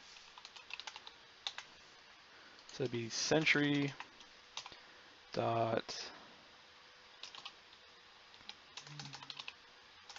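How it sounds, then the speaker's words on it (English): Computer keyboard typing during game development work comes in scattered bursts of quick, crisp key clicks, close and fairly quiet, alternating with short spoken phrases from a man. "I'm gonna get annoyed typing in inventory."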